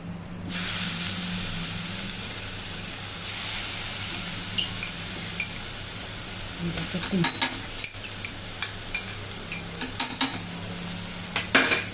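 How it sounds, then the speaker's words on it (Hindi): Steady soft sizzle of garlic frying in a pan for jackfruit curry, with occasional scraping and clicking from stirring and a faint spitting hiss. "ये देखिए, हमारा लहसुन अच्छे से भून गया है"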